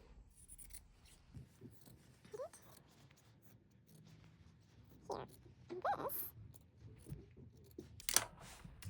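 Sharp scissors snip through fabric while a hem is trimmed: a few soft, intermittent close cuts and rustles at a steady pace, faint and quiet overall.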